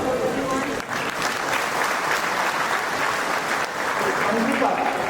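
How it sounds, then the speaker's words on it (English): Dense, loud applause from a crowd at a 2024 convocation ceremony rolls on continuously, with voices mixed into the clapping. "Big round of applause, everyone."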